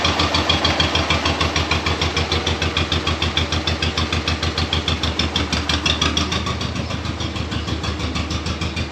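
A farm tractor used for planting runs steadily for the whole stretch, its engine chugging close by in an even, throbbing rhythm with no talk over it.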